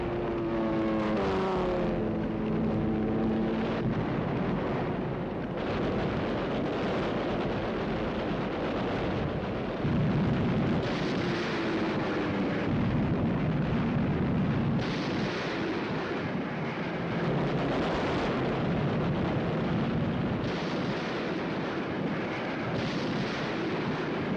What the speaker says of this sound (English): An American carrier of the Essex class gets a direct hit.